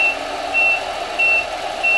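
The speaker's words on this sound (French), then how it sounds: "Avec le bip habituel sur les camions." A Tamiya MB Actros 3363 RC truck sounds its reversing alarm: clear, evenly spaced electronic beeps, about four over two seconds, over a low motor hum.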